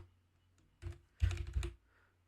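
Two short bursts of typing on a computer keyboard: a brief pair of clicks, then a quicker run of keystrokes, close and fairly quiet against a silent background.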